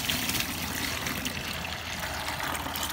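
Kumis is poured from a container and gushes out in a steady, close, continuous trickling stream with no break. No speech is heard.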